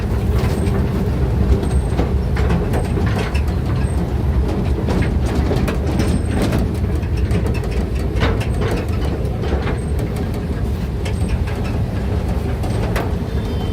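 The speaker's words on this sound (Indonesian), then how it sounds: "akan melewati perempatan rel Diamond Crossing." A rare steam locomotive at the PG Semboro sugar mill, hauled by a diesel locomotive, rumbles loudly and steadily across a rail diamond crossing, with dense low rumble and repeated metallic wheel clatter throughout.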